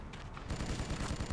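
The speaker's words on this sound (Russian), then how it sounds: "но мне пулемет больше нравится" Rapid machine gun fire in the BloodRayne video game, dense continuous bursts that grow louder after a brief opening, with no talking.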